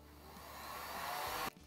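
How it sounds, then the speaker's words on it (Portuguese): A hair dryer or heat blower runs steadily, drying paint on an MDF sewing box, a continuous broadband whoosh that holds for about a second and a half and then cuts off abruptly, with no talking. "eu vou secar com o soprador ou com o secador"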